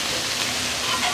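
Onions sizzle on a hot Blackstone griddle, a steady, fairly loud frying hiss with no speech.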